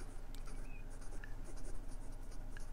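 A 1958 Lady Sheaffer Skripsert fountain pen with a small conical nib scratches steadily across paper, a soft continuous scritching with faint papery texture, close and quiet with no talking.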